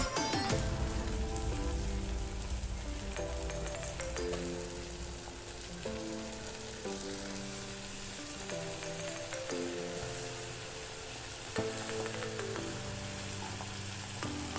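Vegetables for an ash gourd gravy sauté in a pan with a steady, close sizzle and crackle throughout, while tonal music plays softly in the background and no one talks.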